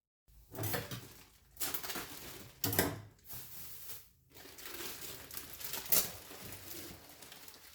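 Crinkling plastic meat packaging holding beef rustles and crackles in several bursts with short pauses between, close by, with occasional sharper clicks.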